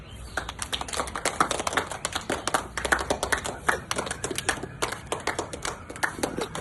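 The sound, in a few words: children clapping hands at gymnastics demonstration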